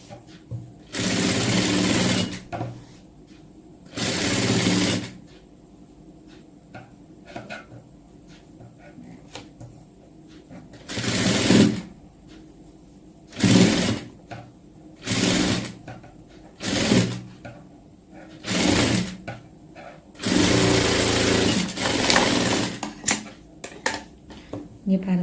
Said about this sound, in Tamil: இப்போ நான் இதை ஸ்டிச் பண்ண போகிறேன்.